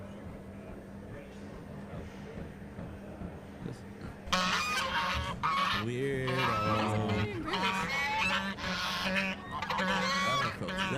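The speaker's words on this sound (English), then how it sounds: "Canadian geese." Canada geese honk in a loud, raucous flurry of repeated calls, close and overlapping, after a quieter stretch of background murmur.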